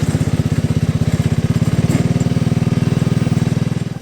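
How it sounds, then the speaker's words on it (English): Farm tractor engine running steadily while tensioning field fence, a loud close rhythmic diesel chug with even pulses and no talk. "I went ahead and hooked up the tractor and put some tension on it"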